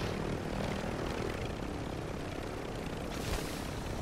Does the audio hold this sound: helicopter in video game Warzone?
yes